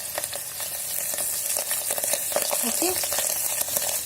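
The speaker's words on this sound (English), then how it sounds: "Stir it like this till the paneer turns light brown color." Paneer cubes sizzling and crackling in a frying pan with turmeric while a spoon stirs them, a steady loud hiss with scraping, and a brief word spoken over it.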